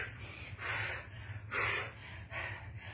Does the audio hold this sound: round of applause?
no